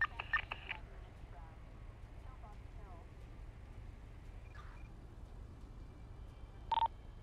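Short electronic phone dialing beeps in a GTA roleplay game, a few quick tone bursts at the start and one near the end, over a low steady engine hum with no talking.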